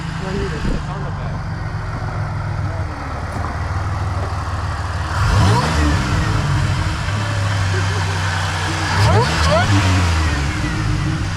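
Ford F350 pickup with a supercharged 460 big block V8 idling and then revving on the throttle in two rising bursts, loud and close, with people talking over it.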